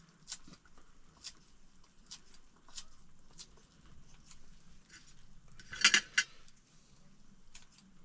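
A knife chopping green onions on a board while cooking outdoors, sharp light taps in an uneven rhythm, close but quiet, with a quick cluster of louder knocks partway through.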